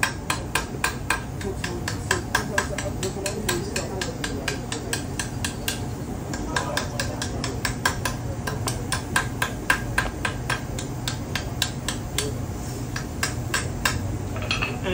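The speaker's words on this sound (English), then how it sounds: "I'm going to go ahead and hammer those smooth and then hand this piece off." Soft steel for a kunai is hammered smooth in a blacksmith's shop, a long run of steady metallic blows in quick, fairly even rhythm over a constant background hum.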